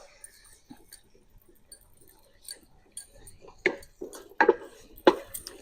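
Eggs being scrambled with a spatula on a hibachi griddle, sparse light scraping and clinking taps that grow louder and sharper toward the end, with no other sound between.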